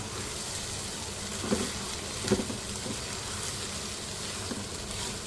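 Stir-frying rice with egg, chicken and vegetables in a pan: a steady, close sizzle with a few soft scrapes and knocks of the spatula, no voices.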